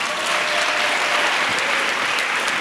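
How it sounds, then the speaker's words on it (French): An audience claps together at a religious teaching gathering, a dense and steady burst of applause that stays loud and even for its whole length, with no voices rising above it. "C'est bon, acclamons."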